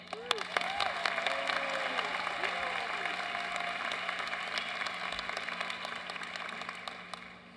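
Sustained audience applause at a Carnegie Mellon University orientation convocation welcoming Professor Stellick, a dense, steady wash of many hands clapping in a large hall with a few faint whistles, holding level before tapering off.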